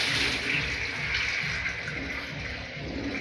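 Water runs steadily from a tap just after a water filter replacement, with a constant rushing hiss, close by and without pause.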